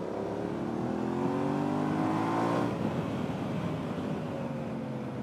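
Yamaha Ténéré 700 motorcycle engine fitted with an aftermarket exhaust, a deep steady drone with rising harmonic tones as it pulls, loud and continuous with no talking.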